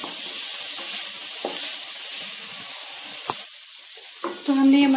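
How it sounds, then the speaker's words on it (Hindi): Spice masala sizzles and hisses in a pan as it is stirred and fried for vegetable macaroni pasta. The steady close sizzle has a few scraping stirs and ends with a brief tonal sound. "इन मसाले को हम चला लेंगे और चला के भून लेंगे एक मिनट।"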